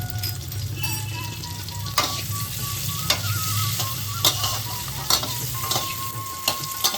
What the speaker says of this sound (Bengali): এদিকে সবজিগুলো খুব ভালো করে ভাজা হয়ে গেছে।